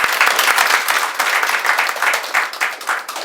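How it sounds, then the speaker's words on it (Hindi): A theatre audience at a stage play claps loudly and continuously, a dense, steady burst of applause. "एक बार जोरदार ताली दीजिए"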